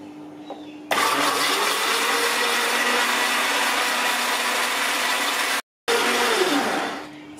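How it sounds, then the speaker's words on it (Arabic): An electric blender grinding cake ingredients, sugar, salt and vanilla among them, roars loudly and steadily, cuts out for a split second, then resumes before winding down at the end. "وغادي نطحن كلشي مزيان في الخلاط الكهربائي."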